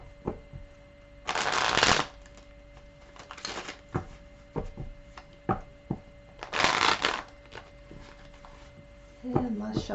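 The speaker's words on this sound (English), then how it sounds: "As always, I like to shuffle on camera for full transparency." Tarot cards riffle-shuffled close by in several bursts, each a dense papery flutter lasting under a second, with scattered taps and clacks of the deck being squared between them.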